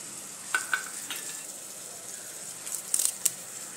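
Finely chopped onion, cumin and garlic-ginger paste fry in a pan for dum aloo, a quiet steady sizzle broken by a few brief scrapes and clinks of a stirring spoon.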